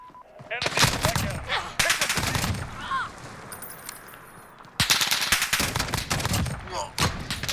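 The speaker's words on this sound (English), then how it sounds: "I'm able to get 2 shots off pretty quick" Rifle fire from an MK 20 SSR in Call of Duty Modern Warfare, loud booming shots in quick bursts with rumbling echo tails, near and dominant, with game sounds between volleys.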